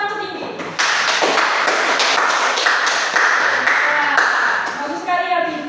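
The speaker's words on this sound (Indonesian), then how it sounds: "Tepuk tangan untuk Pinky." A classroom group claps for a student named Pinky during a micro-teaching lesson, steady close hand-clapping for about five seconds with individual claps audible and voices faintly underneath.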